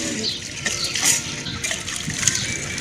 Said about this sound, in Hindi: प्यास बुझाने के लिए हमें इस चापाकल में पानी पीना होगा।